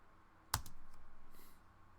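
A single sharp spacebar press on a computer keyboard, one crisp near click with a brief thud, followed by quiet room hum and no talk.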